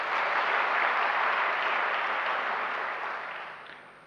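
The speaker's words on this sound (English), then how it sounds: "Let us give them a round of applause." Lecture audience at an Africa Day event breaks into dense, loud applause, a sustained wash of many hands clapping that holds steady before gradually tapering off toward the end.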